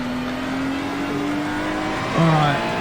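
Race car engine from the iRacing sim during a wet race, with a Porsche running close behind: a steady, loud drone holds throughout, then a sharp, brief rev blip near the end.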